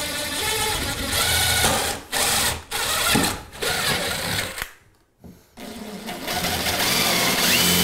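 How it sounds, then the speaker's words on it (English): Power drill pre-drilling a hole in fiberglass during a budget bathroom remodel, a loud close whirring grind in several bursts with short pauses, alone without talk. "Always pre-drill this hole."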